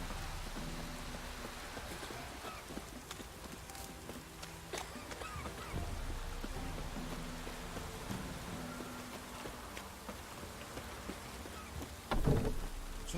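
Steady rain in the video game The Witcher 3: Wild Hunt patters continuously in the background with a low rumble, faint and even throughout, and a brief louder crackle near the end.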